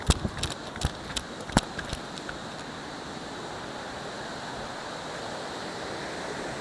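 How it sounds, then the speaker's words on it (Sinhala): Steady, full rushing of a forest stream swollen by rain, continuous and close, with a few sharp knocks and clicks near the start. "වතුර පාර සද්ද ඇහෙනවා"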